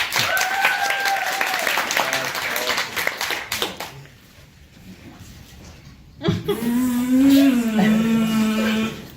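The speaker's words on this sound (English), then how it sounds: "I do a warm round of applause for Face Off!" An audience at a student improv comedy show laughs and claps for a few seconds, then goes quiet. A performer then starts speaking in a funny voice.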